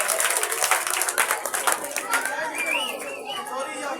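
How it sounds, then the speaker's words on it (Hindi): Clapping for children at a school 14 August program bursts out loud and brisk for about two seconds, then thins out as children's chatter and voices take over. "तालियां तालियां बच्चों के लिए तालियां"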